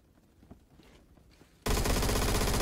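Sustained automatic fire from the A1 rifle in Phantom Forces erupts loud and continuous partway through, following quieter scattered footsteps and distant shots.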